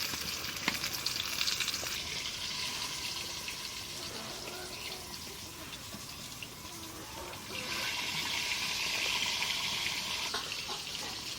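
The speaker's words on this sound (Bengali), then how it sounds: "মাছটা আমরা একটু কড়া ভাজা দিই" Fish frying crisp in hot oil in a home kitchen, a steady loud sizzle lasting throughout and swelling stronger toward the end.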